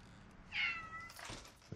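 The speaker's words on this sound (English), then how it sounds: "Meow, meow, kitty." A single clear cat meow, close by and moderately loud, followed by faint rustling.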